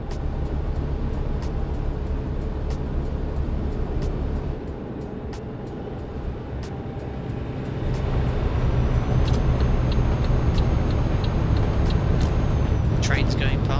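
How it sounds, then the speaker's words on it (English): Steady road traffic rumble in Euro Truck Simulator 2, a continuous engine and tyre drone that swells louder partway through, with regular faint clicks over it and someone talking throughout. "Traffic on the roads."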